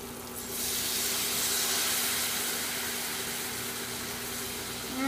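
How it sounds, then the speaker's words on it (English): Onions sautéing in a pan with garlic salt and a splash of red wine, the liquid boiling off in a loud, steady hiss that swells just after the start and holds evenly with no talking. "I'm just going to go ahead and saute these down and let that little bit of liquid reduce and evaporate"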